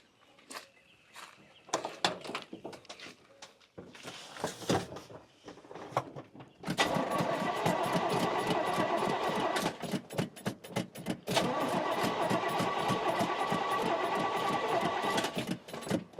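The LS-swapped C10 truck engine cranking on a weak battery, rapid mechanical chattering clicks in bursts that turn into long sustained rattling stretches, close and fairly quiet.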